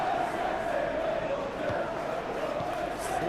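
Stadium crowd noise from a simulated Premier League match between Manchester City and Wolverhampton in the football video game PES, a steady, dense roar of applause and cheering that runs continuously at moderate level throughout.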